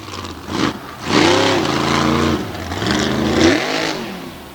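A dirt race truck's engine at an off-road event revs sharply, rising in pitch and surging twice with a brief dip between, loud and close with no talk.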